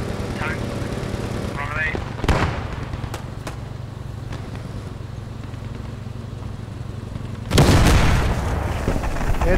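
Mine detonating on a tank in the World War II game Post Scriptum, heard as a sudden heavy boom late in the clip over a constant engine and battle rumble, with a few sharp cracks of gunfire earlier.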